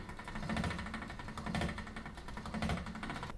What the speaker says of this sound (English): I'm just going to roll out our fondant just a little bit and then place it into our pasta machine